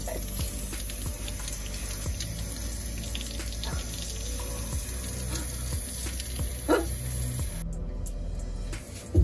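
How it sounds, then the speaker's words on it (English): Water escapes from a 12-volt plumbing system fitted in a tiny houseboat, a steady rushing hiss that runs throughout and cuts off near the end, with occasional faint knocks underneath. "Oh, sprung a leak."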